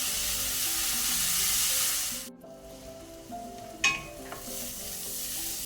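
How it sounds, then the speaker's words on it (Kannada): Onions sizzle steadily as they fry in a pan over a medium flame. The loud hiss drops briefly around the midpoint, and a few clinks of stirring follow before the frying noise rises again. "ಈಗ ಫ್ಲೇಮನ್ನು ಮೀಡಿಯಮಲ್ಲಿ ಇಟ್ಕೊಂಡು ಈರುಳ್ಳಿಯನ್ನು ಒಳ್ಳೆ ರೀತಿ ಫ್ರೈ ಮಾಡಬೇಕು."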